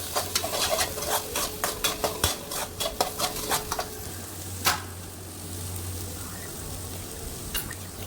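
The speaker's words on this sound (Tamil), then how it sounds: "நல்லா வதக்கணும்" Chicken kothu idiyappam being sautéed in a pan, with a rapid run of spatula scrapes and clinks against the metal over a steady sizzle, then the scraping thins out and the frying hiss carries on alone.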